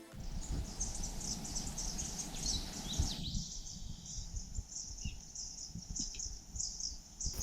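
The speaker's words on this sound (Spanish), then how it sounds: "El sonido de los pájaros fue mi principal despertador." Birds chirp and sing in a steady dawn chorus alongside a continuous insect drone, with low rumbling noise underneath, near Choquequirao, Peru.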